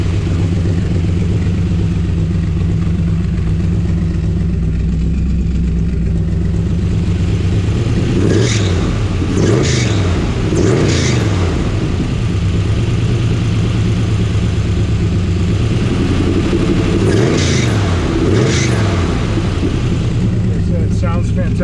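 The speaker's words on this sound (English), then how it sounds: "We'll rev it up a little bit for you." A 1969 Chevrolet Corvette engine idles warm with a deep rumble, then revs up sharply several times in bursts, the pitch rising and falling with each throttle blip.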